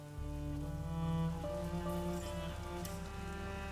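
Steady rain patters across surfaces in the video game A Plague Tale: Innocence, a constant soft hiss beneath a sustained tonal drone of game music.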